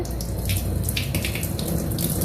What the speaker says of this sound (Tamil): பாருங்கள், தண்ணியில் நல்லா ரின்ஸ் பண்ணிக்கிறேன்.